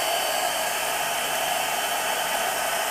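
Heat tool blowing hot air to dry gesso on a chipboard journal cover, a constant loud, close whooshing hiss with no change across the clip and no talk.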